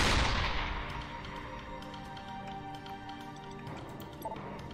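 A single heavy gunshot from the Shadowrun Chronicles: Boston Lockdown video game booms at the start and rings out in a long fading tail, followed by a steady game soundscape with a few faint clicks.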